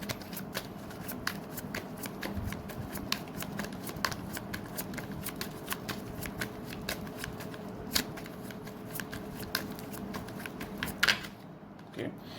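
Tarot cards are shuffled by hand, a long run of crisp, close riffling and flicking with sharp card snaps scattered through it, over a faint steady background hum.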